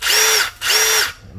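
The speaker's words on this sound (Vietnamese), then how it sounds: "nghe tiếng máy của nó cũng khác so với hãng, êm hơn rất là nhiều" A repaired cordless power drill runs in two short bursts of about half a second each. The motor gives a smooth, high whir that spins up and winds down each time, close and loud, with a faint click at the end.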